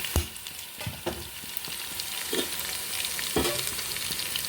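Onions fry for an Andhra-style mutton biryani, a steady close sizzle with a few sharp scrapes and clinks of stirring in the pan, no voices.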